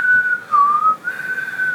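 A person whistles a short catchy tune imitating the whistle hook from a 90s hip hop track, a steady bright tone that dips and rises again, close and alone without talk.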